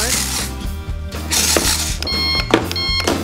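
A child's toy cash register gives repeated electronic beeps and chimes, close and loud, in several short bursts over a few seconds.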